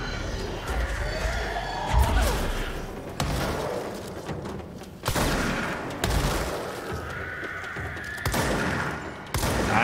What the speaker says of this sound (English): I honestly love this shotgun